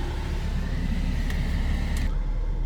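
Six-cylinder car with 147,000 miles, revved at a dealer auction, a loud, sustained engine drone that cuts off sharply near the end.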